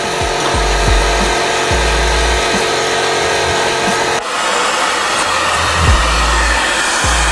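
A hair dryer force dries a freshly sprayed coat of paint on a model build, running loud and continuous up close with a steady whine, its tone shifting briefly midway as it moves.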